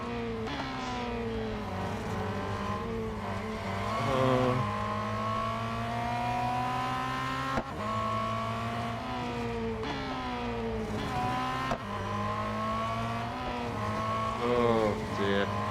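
Race car engine in the Real Racing 3 mobile game roars continuously, rising and falling in pitch as it shifts through gears during a multiplayer series race, steady and loud with repeated upshift sweeps.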